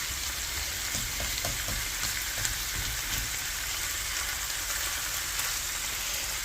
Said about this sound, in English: We'll put them in there and let them kind of saute down a little bit.